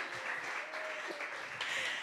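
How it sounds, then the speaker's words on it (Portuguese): A congregation at a church camp clapping, a steady, faint wash of applause with thin whistling tones drifting through it, heard from a distance and without talk. "Dá um salva de palmas para Isaac."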